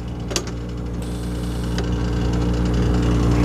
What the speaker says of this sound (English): the generator runs great